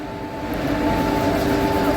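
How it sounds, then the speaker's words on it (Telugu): A MEMU train running from Secunderabad to Warangal, heard at Ghatkesar station as a steady, fairly close low rumble with a sustained tonal hum, growing slightly louder over two seconds. "సికింద్రాబాద్ నుంచి వరంగల్ వెళ్ళే మెమో ట్రైన్"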